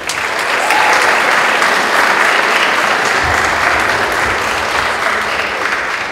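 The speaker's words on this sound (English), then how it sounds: "we have a round of applause for her" Steady, loud audience applause at a high school open house, honoring staff member Diane Rose, a dense wash of clapping hands sustained evenly throughout.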